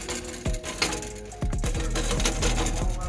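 Loose metal rattling and clattering from a failing catalytic converter on a 1999–2006 Chevy/GMC Suburban or Tahoe, irregular taps and buzzing under a steady engine rumble, close and fairly loud.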